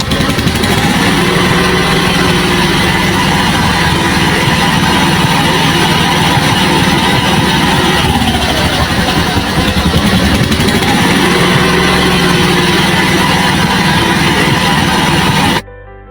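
A car engine idles close by, a steady, loud mechanical drone that holds unchanged for the whole stretch with no talk over it.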